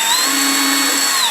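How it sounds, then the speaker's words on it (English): A size F drill bit bores a pilot hole for a 5/16 by 18 tap, making a steady, loud, close whine that holds one pitch for about a second before winding down at the end. "5/16 by 18 tap takes a size F drill."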